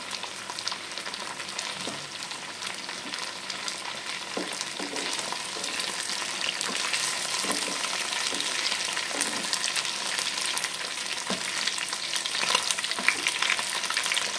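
Chili chicken pieces frying hard in hot oil over high heat, a loud, dense, continuous sizzle with a few stirring scrapes, close up and without pause.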